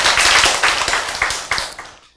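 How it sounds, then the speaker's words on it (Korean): Brief burst of audience clapping at a lecture, many hands patting quickly together, fairly loud at first and then thinning and fading out within about two seconds. "여러분 왜 박수 쳐요?"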